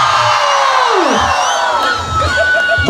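Large crowd at an event in Coimbatore cheering, whooping and shouting together, a loud sustained roar that swells and dips briefly before rising again.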